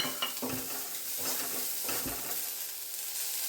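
Boiled peas sautéing in a sizzling ginger-garlic masala paste over low heat for potato-pea samosa filling, a close, steady fry with soft stirring scrapes and light clinks.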